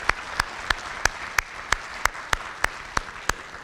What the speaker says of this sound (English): Let's give ourselves some applause.